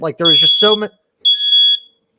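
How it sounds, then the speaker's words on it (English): A smoke alarm set off by vaping gives a sharp, high electronic tone in two beeps, heard near and loud. Someone speaks over the first beep. "That's my fire alarm."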